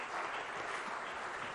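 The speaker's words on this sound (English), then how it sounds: "Can we have a warm round of applause" A steady wash of audience applause at a public talk, even and continuous across the moment, moderately distant with no distinct individual claps standing out.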